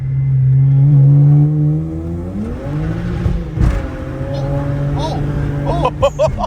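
A BMW N54-engined car launches hard in first gear, its engine note climbing steadily in pitch with rapid acceleration, loud and close inside the cabin, followed by excited voices.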